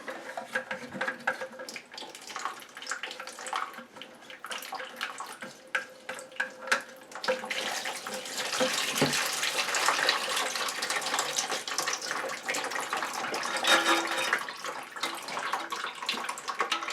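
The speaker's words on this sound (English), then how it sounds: "Go quick because this tank is filling up with water." Water rushes steadily into a toilet tank through a newly fitted Fluidmaster fill valve, a broad hiss that swells louder about halfway through and holds constant, with faint clinks early on and no talking.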